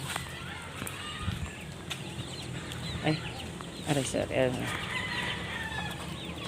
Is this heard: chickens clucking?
yes